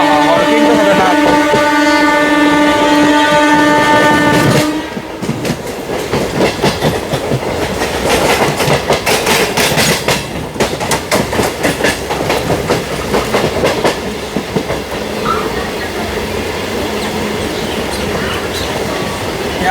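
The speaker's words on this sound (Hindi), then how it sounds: "मैमू एक्सेलरेशन लेते हुए, अच्छी खासी स्पीड लेते हुए, खतरनाक एक्सेलरेशन ले रही है।" A MEMU local train on a journey toward Nagpur accelerates hard to a good speed, with loud rumbling and rhythmic clickety-clack of wheels on rail joints, preceded by a steady horn-like tonal drone in the opening seconds.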